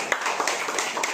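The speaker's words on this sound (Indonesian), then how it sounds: "Beri tepuk tangan buat Tika" A classroom gives a student named Tika a short round of applause, a quick burst of scattered hand claps that lasts only about a second.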